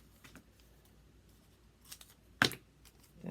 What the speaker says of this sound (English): I'll fold it and cut it.